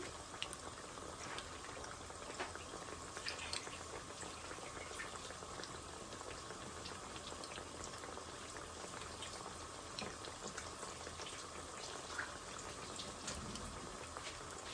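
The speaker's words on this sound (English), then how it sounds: "my third lot is now frying" Steady crackling and sizzling of maru bhajiya frying in hot oil, a dense continuous hiss with tiny pops, fairly quiet and without voices.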